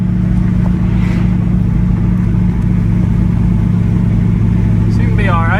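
A Toyota Prius swapped with a 6.0L V8 hums as a loud, steady low engine drone under in-car talk, with the engine note rising briefly near the end.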